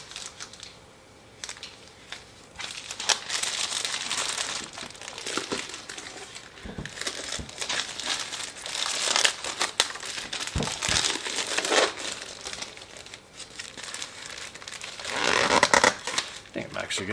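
Plastic wrap crinkled and pulled off a large 20 by 14 inch Farberware bamboo cutting board, with close, irregular crackling and rustling bursts that continue throughout, with a voice speaking at times.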